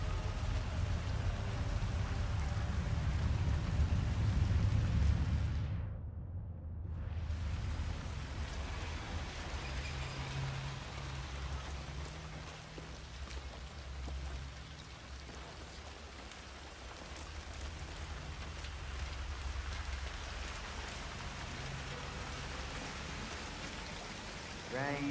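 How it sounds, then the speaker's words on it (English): Steady rain falling in the video game Hitman 3, a dense, even hiss with a low rumbling undertone that swells early, briefly drops away, then continues at a softer level. "Rain, rain, nothing but rain."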